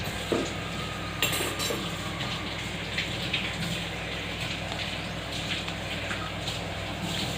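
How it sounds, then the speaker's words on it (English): Milk and rice paste for mango phirni are stirred in a pot, making soft continuous scraping and swishing with occasional light clinks against a steady background hiss of gentle cooking. "so let's keep on stirring our milk and the paste."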